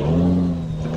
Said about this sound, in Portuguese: Fica desquentando o motor, como vocês podem ouvir,